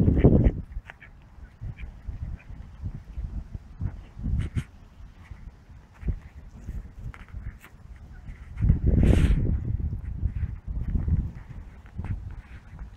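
Ducks quack outdoors near water in several separate bursts, loudest near the middle, with quiet gaps between calls and no talking.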